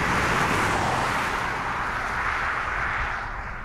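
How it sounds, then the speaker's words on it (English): A 2019 BMW i8 hybrid sports car drives in electric mode, with a faint gearbox whine from the front axle under steady road and tyre rush that stays even throughout. "You can just hear a little bit of gear whine from the gearbox over the front axle"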